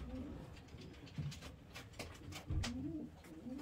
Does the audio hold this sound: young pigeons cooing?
yes